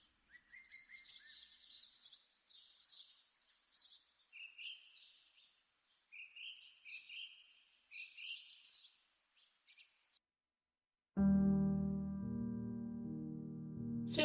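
Birdsong in a video game house tour: repeated high chirps and trills, fairly clear and close, in short bursts for about ten seconds, then cut off by a loud sustained low tone.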